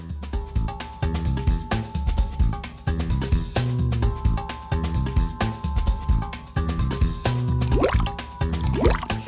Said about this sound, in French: on verse le solide puis on rince la capsule de pesée et l'entonnoir avec de l'eau distillée